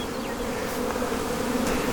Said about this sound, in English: Bees hate to be brushed at the best of times,